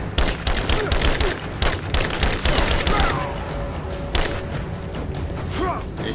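Heavy gunfire in the video game Rise of the Tomb Raider, with rapid overlapping shots and thuds forming a loud, dense fusillade. It eases slightly midway, and shouting voices mix in.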